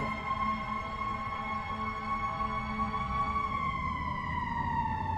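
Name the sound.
fire truck siren passing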